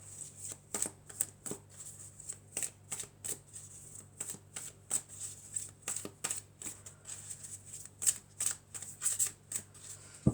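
Oracle cards being shuffled by hand: a steady run of crisp riffling and slapping bursts, close and fairly quiet, repeating for about ten seconds with no speech.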